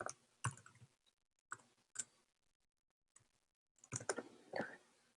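Someone types on a computer keyboard in short bursts of rapid clicking separated by pauses, close and fairly quiet with no talk.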